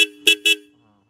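Three short, loud honks from a two-tone motorcycle horn on a 2020 Royal Enfield Classic 350 BS6, spaced close together, each a brief bright blast, followed by a quiet fade.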